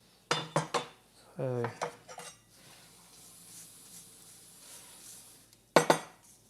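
A knife is picked up and handled near hard olive oil castile soap, giving a few sharp metallic clinks and scrapes close by at the start and a brief clatter at the end, with quiet room tone between and a short spoken word.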